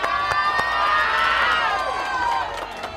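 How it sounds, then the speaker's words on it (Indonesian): Studio audience cheering and shouting with loud, continuous crowd noise and overlapping voices during a cash-giveaway shopping show, sustained for about three seconds before easing slightly. "Tepuk tangan dulu yuk."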